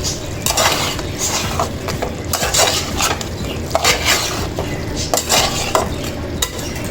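A spoon stirs crab pepper masala in a hot pan, scraping and clinking against the metal in repeated strokes over a soft sizzle, close and steady with no talking.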